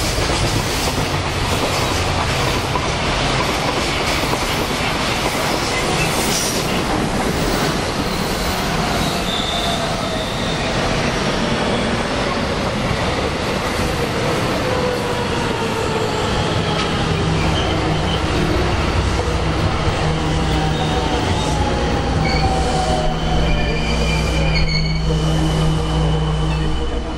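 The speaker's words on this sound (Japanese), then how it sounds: "一番乗り場、列車が通過します。" A freight train passes straight through the platform at JR Ibaraki station, a loud continuous rumble with wheel clatter and squealing rail noise from start to end, closing with a low steady tone.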